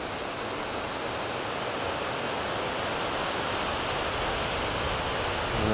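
A river rushes past an old mill in deep snow, a steady broadband roar of flowing water holding even and loud throughout with no voices.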